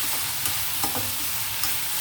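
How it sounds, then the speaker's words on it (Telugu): Tomatoes fry in hot oil with a constant close sizzle, and a spoon stirs them in a few light scraping taps, with no voices. "ఈ టైంలో మనం టమాటో వేయాలన్నమాట. టమాటో కూడా కొంచెం ఆయిల్లో మగ్గితే టేస్ట్ బాగుంటుంది."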